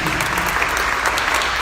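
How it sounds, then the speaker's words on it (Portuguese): Dense, loud applause from a church congregation, a continuous close wash of clapping with no pauses. "Aplauda esse Espírito Santo."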